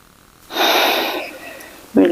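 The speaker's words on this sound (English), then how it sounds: "Last one, inhale." A deep inhale drawn through the nostrils during a yoga breathing exercise, a loud, close, steady rushing breath lasting under a second before a short burst of voice.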